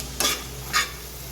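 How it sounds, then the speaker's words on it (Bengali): Fried chicken being stirred into a hot pan of sauce for a Chinese chicken fry, two short scraping sweeps with a faint sizzle between them, close and fairly quiet. "দিয়ে দিচ্ছি ভেজে রাখা চিকেনটা। এগুলোকে মিশিয়ে নিতে হবে।"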